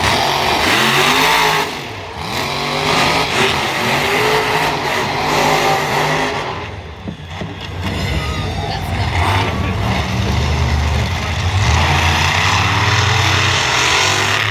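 A monster truck roars at the Freedom Factory during Le Mullets 2023, its engine revving loudly in rising and falling surges, with crowd noise and voices mixed in.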